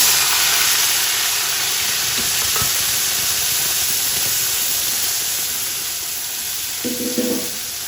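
Loud, continuous sizzling and hissing as palak paneer gravy cooks in hot oil, easing slightly over time, with a brief stirring scrape near the end and no talking.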